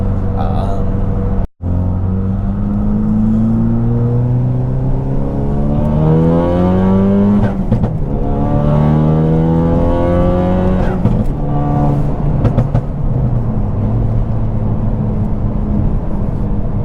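A 2017 Ford Focus RS engine revs up through several gears, pitch climbing and dropping with each shift, loud and close from inside the car, with someone talking over it.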